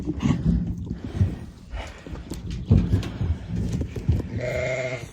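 Sheep bleating in a pen during lambing on a Lake District farm, with a ewe lambing for the first time; several overlapping bleats come loud and close, broken by rustling and shuffling movement throughout.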